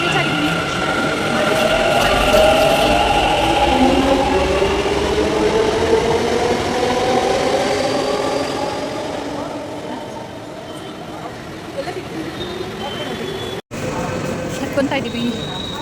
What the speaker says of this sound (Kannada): ಹತ್ಕೊತಾ ಇದ್ದೀವಿ ಮೆಟ್ರೋ.